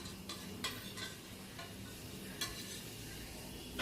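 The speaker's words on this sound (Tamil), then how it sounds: "இது இப்படியே நல்லா கொதிக்கட்டும்." Goat leg soup boils in a kadai with faint, continuous bubbling and hissing, broken by a few sharp clicks.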